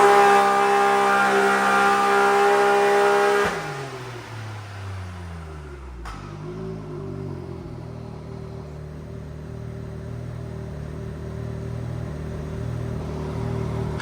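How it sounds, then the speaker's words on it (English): A Can-Am Maverick X3 engine fitted with a new belt and billet clutches holds a loud, steady high rev, then drops sharply and settles into a lower droning rumble that climbs again near the end. "We're gonna try and get some more RPM out of it and see what happens."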